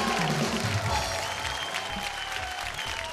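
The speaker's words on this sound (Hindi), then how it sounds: "तो आइए सबसे पहले जोरदार तालियों से स्वागत करते हैं हम सबकी फेवरेट रश्मि देसाई जी" Studio audience of a Hindi TV show loudly applauding to welcome guests Rashmi Desai and Madhu Sharma, a dense continuous roar of clapping from a crowd with music underneath.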